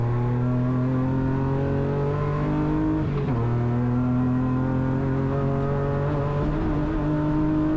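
A BMW E36 rallycross car accelerates hard on track, its engine a loud, steady drone with strong harmonics that dip briefly around a gear change midway, then climb and hold again, close and continuous throughout.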